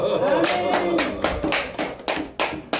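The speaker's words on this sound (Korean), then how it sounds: "감사의 박수" A church congregation claps together in sustained applause, steady and fairly loud, with a few sharper bursts of clapping rising above the wash.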